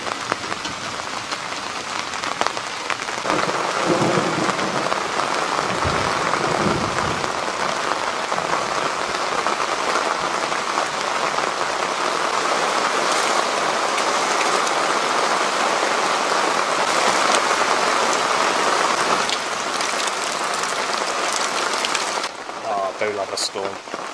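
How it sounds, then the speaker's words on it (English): Heavy rain pounding down during a thunderstorm in the woods around a tent, a dense, loud, unbroken roar of drops that holds for over twenty seconds before easing slightly at the end. "So here comes the rain."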